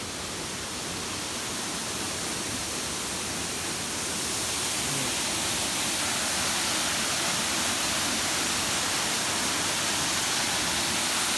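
Waterfall at a Grenada beauty spot with a small pool at its base, a steady broadband roar of falling water filling the scene continuously, growing slightly louder partway through, with no voices.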